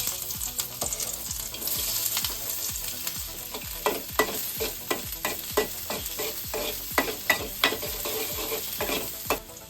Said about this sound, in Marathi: तर त्याला बाकी तेलात आपण टाकूया आता कांदा.